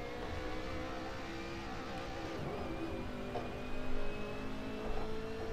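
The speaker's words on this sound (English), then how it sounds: "so I can really hear where the car is coming from." Race car engine from Assetto Corsa, a steady droning hum with slight pitch shifts and a couple of small swells, moderately loud and alone with no talk.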